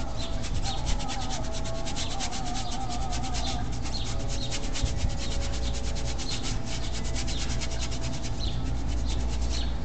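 A 1.5 inch paintbrush scrubs paint onto canvas in a steady, close, dry rubbing rhythm of quick repeated strokes, with no talk.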